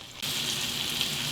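Asparagus cooking in butter in a skillet, a steady close sizzle that starts abruptly after a brief quiet moment and continues evenly.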